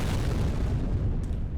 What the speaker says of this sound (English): And that was the explosion I was hearing.